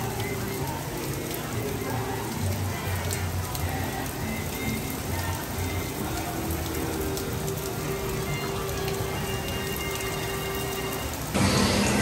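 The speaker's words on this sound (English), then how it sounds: "the rain, the thunder and the lightning that we've been waiting for all day is here." Heavy rain pours down on a stormy day at a theme park, a steady, loud, close drumming on surfaces with no clear thunder standing out.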